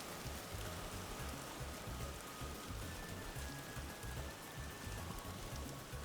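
Steady, loud rain in the game Vintage Story, a dense continuous patter that fills the whole stretch and buries any background music.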